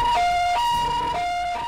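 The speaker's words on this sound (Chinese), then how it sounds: "救护车警报声频传" A two-tone ambulance siren sounds near a hospital emergency department in Hualien, steadily alternating between a higher and a lower wailing pitch, fairly loud and close, with no talking.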